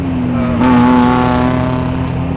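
A 2023 Ford Bronco Heritage with the 2.3L EcoBoost engine and a FlowMaster FlowFX muffler, its exhaust idling in a steady drone before a brief rev lifts the tone partway through and then settles, close and fairly loud.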